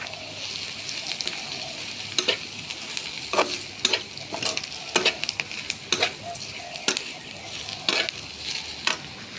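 Fermented soybeans stir-fried in a pan with home-roasted chili powder, giving a steady sizzle broken by repeated scraping stirs, close and moderately loud, with no talking.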